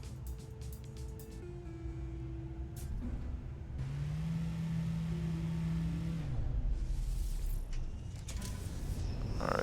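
A vehicle engine in the No Man's Sky game, steady and close, rising in pitch then holding a sustained tone as the vehicle pulls in, with mechanical clatter around it.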